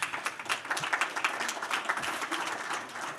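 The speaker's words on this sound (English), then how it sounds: "you even got an applause" Conference audience at a closing plenary applauds in a short burst of clapping, dense and fairly close, steady for a few seconds without speech.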